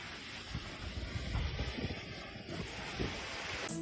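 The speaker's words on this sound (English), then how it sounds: "A bridge is destroyed by rushing water." A steady roar of rushing flood water destroying a bridge, like heavy surf or a torrent, continuous and loud throughout with a windy, blustery edge.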